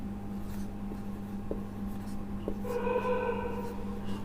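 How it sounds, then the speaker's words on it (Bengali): Pen or chalk marks on a notebook and a board during a chemistry lesson, brief scratchy strokes over a low steady hum, with faint tonal sounds toward the end. "আমি একটু খাতায় লিখছি, বোর্ডে লিখছি।"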